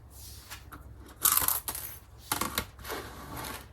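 Scissors cutting through a vintage linen quilt border, close crisp snips and rustling fabric in a few short bursts with quiet gaps between, no talking.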